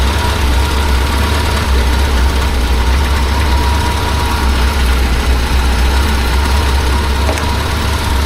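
A BMW 2002 engine idling loud and close on its first start, with a steady low rumble and faint knocking that stays constant throughout, no other voices.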